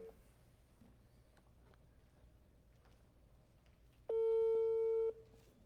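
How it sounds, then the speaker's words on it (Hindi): A telephone call tone sounds once while a call is dialed from a personal number: a steady, loud electronic beep lasting about a second, after faint background noise. "जुनेद साहब, मैं आपको कॉल लगाने लगा अपने पर्सनल नंबर से"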